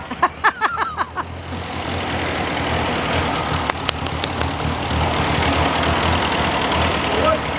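An old farm tractor, revived after 40 years, idles with a steady low rumbling chug, loud and close, after a few sharp starting knocks and brief voices at the beginning.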